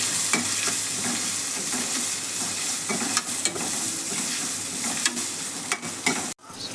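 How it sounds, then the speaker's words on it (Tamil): Onions sautéing in oil with rock salt for a garlic curry give a steady close sizzle, with scattered spoon scrapes and stirring clicks on the pan, and a brief drop near the end. "நல்லா வதங்கட்டும். வெங்காயம் நல்லா வதங்கி வரதுக்காக நம்ம கல் உப்பு சேர்த்துக்கலாம்."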